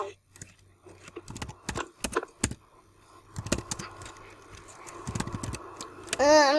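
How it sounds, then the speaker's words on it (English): Typing on a computer keyboard during a casual video call, with irregular bursts of clicking keystrokes, some sharp and close, scattered over faint background hum. "I'm not typing fast today."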